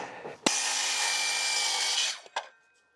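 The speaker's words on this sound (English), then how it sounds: "I don't need the bird's mouth on these pieces, but I do need to cut the rafter tails here" A power tool saw cuts through a wooden rafter tail for a 10x12 shed, a loud steady whine lasting about a second and a half, then the blade spins down with a few short knocks.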